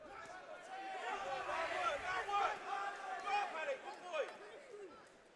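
Crowd at a Sheer Sports boxing event cheering and shouting in waves, a loud, excited roar with rising and falling cries and babble.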